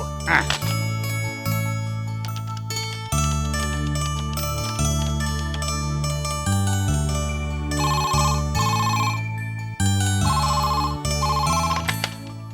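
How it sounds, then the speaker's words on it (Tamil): In a Tamil TV serial, a telephone rings as a call is placed, a melodic electronic ringtone that loops insistently for several seconds over background music. "எதுக்கும் ஒரு போன் பண்ணி அந்த கடங்கார ரங்கநாத இருக்கானான்னு கேட்டு விடுறேனே"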